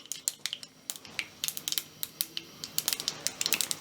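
Mustard seeds and fenugreek drop into hot oil in a pan and pop and crackle in sharp, scattered close bursts that grow denser toward the end, with no talking.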